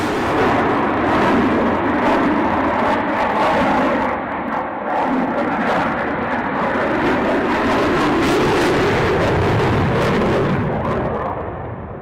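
Jet aircraft departing at an airshow, a loud sustained broadband roar with rumbling low end that stays steady for about twelve seconds before easing slightly at the end.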